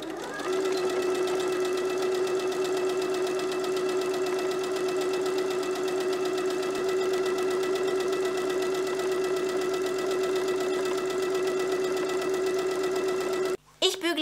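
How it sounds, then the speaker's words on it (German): A sewing machine runs in one long, steady, loud burst while stitching a fabric shopping bag and its lining together at home, a continuous whirring drone that stops abruptly near the end. "Das werden wir jetzt zusammennähen."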